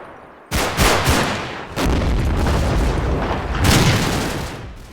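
Gunfire and heavy booms from the war game Combat Mission: Red Thunder: sudden loud blasts with sustained crackling fire and rumbling, a second strong burst midway and another swell near the end.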